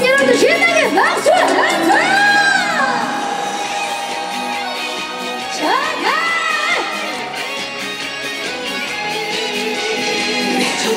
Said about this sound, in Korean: 자, 우리 어게인 여러분들 신나게 박수!